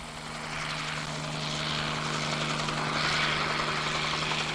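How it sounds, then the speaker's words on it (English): A firefighting helicopter carrying a water bucket flies in over an Australian bushfire, its steady rotor and engine drone building slightly louder and closer, with a constant low hum underneath and no talking. "Another chopper coming in now with another bucket."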